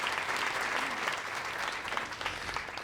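Steady applause from an audience greeting dignitaries at a State of the District event, dense clapping at an even level throughout with no pause.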